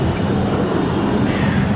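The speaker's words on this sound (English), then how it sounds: "Famous trams." An Amsterdam tram passing on its rails, a steady broad low rumble with rolling wheel noise that holds evenly loud and close throughout, with no voices.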